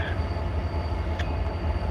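A Norfolk Southern train rolls past on a pass-through line with a steady, heavy rumble of wheels and cars, close and continuous, and a faint metallic squeal near the middle.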